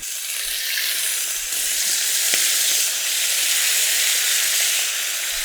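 Steady, loud sizzling of chicken livers frying in a hot pan, a continuous crackling hiss with no voices.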